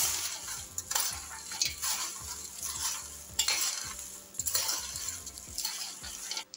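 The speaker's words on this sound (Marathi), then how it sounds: "आता आपण हे सगळं साहित्य एकत्र करू" Hot fried corn-flake chivda ingredients are tossed together, bursts of dry rustling and scraping at a steady rhythm over a light sizzle, close and fairly quiet, with no speech.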